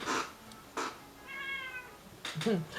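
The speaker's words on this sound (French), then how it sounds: "tiens, un petit chat à côté de moi, qui miaule" A small cat gives a short, thin meow in a quiet room, with brief rustles before it and a soft second mew near the end.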